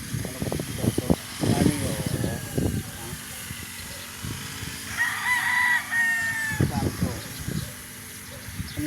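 Chickens and roosters on a Filipino farm, with roosters crowing and hens clucking, close and fairly loud, repeating through the clip while someone talks over them.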